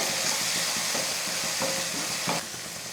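A steady sizzle of masala spices frying in a pan for egg thokku, with occasional scraping stirs of a spoon; the hiss eases slightly near the end.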